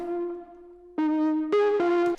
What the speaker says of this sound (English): So if I play the lead without these effects, it just sounds like this.